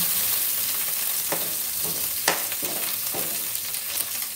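Garlic and onion frying in olive oil for pork kaldereta, a close, continuous sizzle broken by a few sharp stirring scrapes.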